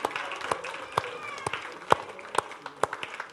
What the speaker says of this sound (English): Yeah, you can clap for him.